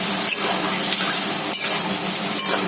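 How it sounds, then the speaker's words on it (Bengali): Chicken is stir-fried in a pan with a loud, steady sizzle, close up, while a spatula scrapes and stirs it at intervals. No one speaks. "চিকেনটা হচ্ছে কষা, ভালো করে কষা হোক"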